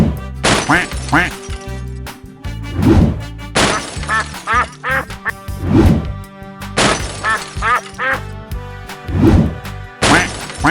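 A cartoon duck quacks in loud, repeated bursts, roughly every three seconds, mixed with crashing, smashing effects and other busy cartoon sounds.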